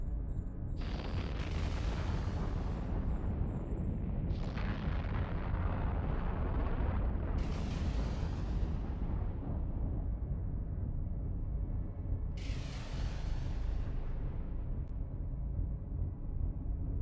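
Ships exchange weapons fire in the space game EVE Online, heavy booming blasts and roaring surges rolling continuously at full loudness, with several sharp bursts rising out of a dense, unbroken wall of explosions.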